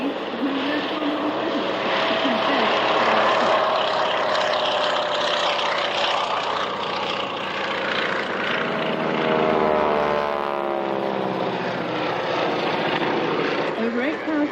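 Open-cockpit biplanes fly over the International Air Tattoo airshow at RAF Fairford with a continuous loud propeller-engine drone that swells and fades as they pass. An announcer talks over the engine noise.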